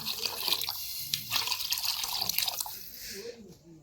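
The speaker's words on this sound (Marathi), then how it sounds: "मी पाणी टाकून घेतो आहे आता" Water poured into a pot for khichdi cooked on a village wood-fired clay stove, a close, bubbling splash and trickle that runs for about three seconds before tapering off into quiet.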